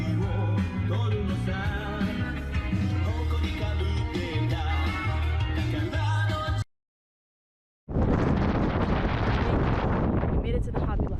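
Strong wind buffets a microphone outdoors in a shop parking lot at night, a loud, rumbling roar that cuts out for about a second and then returns just as heavy.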